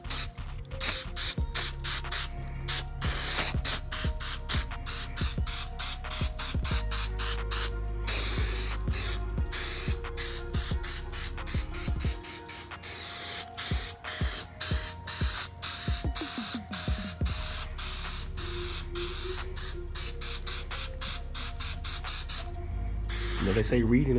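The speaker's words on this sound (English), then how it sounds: "spray this up now" Rust treatment sprayed from an aerosol can onto the body of an 1986 Chevrolet Monte Carlo SS, a dense run of sharp close hisses in quick bursts with short gaps, nearly continuous throughout.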